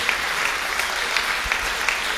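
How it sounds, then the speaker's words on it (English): Round of applause from a jubilee concert audience, steady clapping with distinct sharp claps standing out, moderately loud and unbroken for the short stretch. "please give them a good round of applause"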